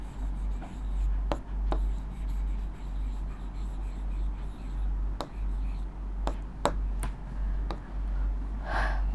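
Chalk or marker scratches on a board while a linear equation in one variable is worked out, soft scraping strokes punctuated by a few sharp taps over a steady low electrical hum.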